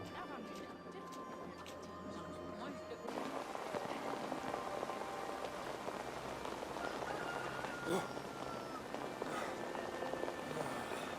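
Steady rain falls outside by a pig pen in the video game Assassin's Creed, a soft continuous patter of drops that thickens after a few seconds, with a voice speaking over it.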